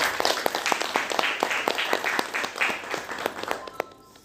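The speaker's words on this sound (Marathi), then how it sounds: "त्याच्यासाठी एकदा जोरदार टाळ्या" An audience at a spiritual discourse gives sustained applause, many hands clapping together in a dense, even patter that carries on for several seconds before starting to thin out.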